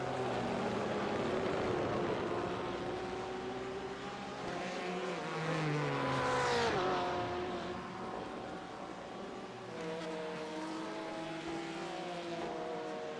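Racing engines in a sim racing game at Road America, with a BMW race car among them: steady harmonic drones rise and fall in pitch across the clip, with a louder pass around the middle and no talk.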